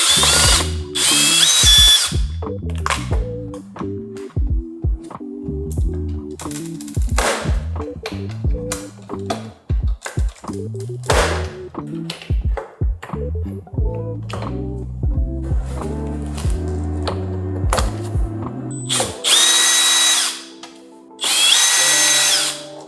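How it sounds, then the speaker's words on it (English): A cordless power drill removes Torx screws from an Audi R8 grille, whirring in repeated runs, its pitch stepping up and down as screws spin out, with brief ratcheting clicks and sharp bursts between. "I do recommend using a power tool to make this job a lot quicker"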